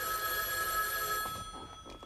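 A telephone bell rings in a room, a close, bright electronic trill that holds for more than a second before stopping, followed by a short stretch of faint room noise.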